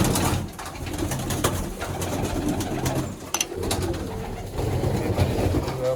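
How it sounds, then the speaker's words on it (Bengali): Pigeons coo continuously in a loft near Baruipur, Kolyanpur, at feeding time, a steady low burbling chorus from many birds with occasional wing flaps and clatter, no talking. "এবার আপনাদের খাবার দেবে মাদি পায়রাগুলো মাদি সেকশনে"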